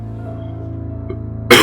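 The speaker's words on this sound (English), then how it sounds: "It's just my lingering cough." A single sharp, lingering cough bursts out close to the microphone near the end, after a stretch of low, steady room hum.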